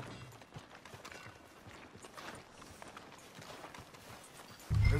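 Horse hooves clip-clopping in Red Dead Redemption 2, a quick, steady trot of hoofbeats on the ground, moderately close, with a sudden louder burst at the very end.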